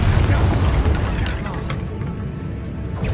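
Confringo fire spell exploding in the video game Hogwarts Legacy: a loud, deep boom with a rumbling tail that fades, followed by a few faint crackling pops.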